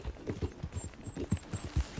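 Horse hooves clip-clopping at a steady walking pace in Red Dead Redemption 2, a soft, even rhythm of thuds, moderately close and fairly quiet, without talk.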